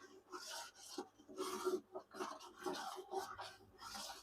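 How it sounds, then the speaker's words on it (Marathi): A spoon stirs flour roasting in a pan for fenugreek laddu, giving a rhythmic, dry scraping and rubbing with short gaps between strokes, close and fairly quiet, with no talk. "चांगला असा हलवत राहायचा, आता खाली करपून जाईल।"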